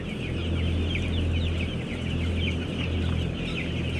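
Many chickens clucking continuously on a chicken farm in Thailand, a dense, fairly loud flock chorus of overlapping clucks close by with no talking.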